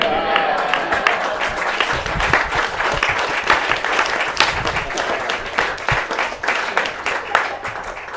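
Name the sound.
audience applause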